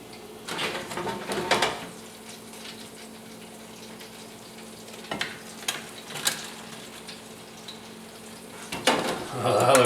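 Cajun-seasoned mushrooms deep frying in hot oil, giving a steady crackling sizzle throughout with a few louder bursts and stirring clatters near the end, close by with no talk.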